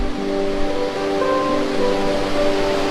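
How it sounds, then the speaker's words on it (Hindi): The Mandakini river rushes past at Kedarnath, a loud, steady broadband roar of flowing water close by, continuous with no talking. "मेरे बगल में बह रही है मंदाकिनी नदी।"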